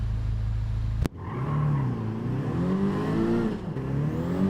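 A car engine in Gran Turismo 7 revs loudly after a brief sharp break, its pitch climbing and falling through several throttle sweeps under steady race-lobby background.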